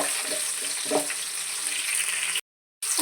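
Green chillies frying in oil in a pan, a steady close hiss and crackle that runs evenly, then cuts out briefly near the end before resuming.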